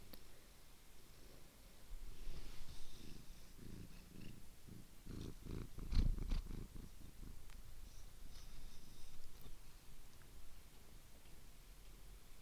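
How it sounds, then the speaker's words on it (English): A cat purrs close to a microphone, a soft rhythmic rumble of repeated breaths with light rustling and one brief thump midway. "She tried to kind of purr near the mic"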